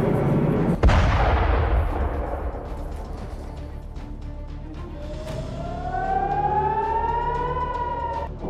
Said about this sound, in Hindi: तेल अबीब में सारन कैसे बज रहे हैं उसकी आवाज